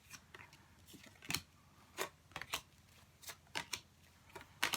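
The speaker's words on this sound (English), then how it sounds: "Let's give it another bit of a nice shuffle there for you." Tarot cards being shuffled by hand in short, crisp riffling bursts with brief pauses between them, close and fairly quiet, with no talking.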